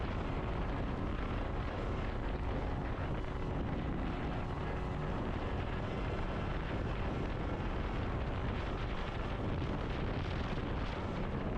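A brand new Arctic Cat Catalyst snowmobile riding on its first trip with only 2.2 hours on it, a constant loud engine roar blended with heavy wind rush against the microphone, with no break.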